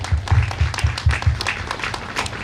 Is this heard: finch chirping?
no